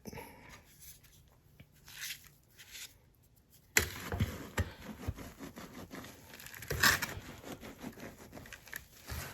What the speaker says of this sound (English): I'm just mixing this up with my small little garden shovel here